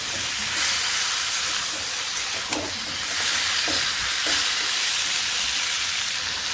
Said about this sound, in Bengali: তো মাংসটা ভালো করে কষিয়ে নিই, ঢেকে ঢেকে একটু সময় নিয়ে কষাই করব